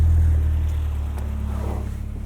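Inside the cabin of a 2022 Subaru BRZ with an MRT Sport Touring axle-back exhaust, a loud, steady low engine drone with mild road rumble and no talking.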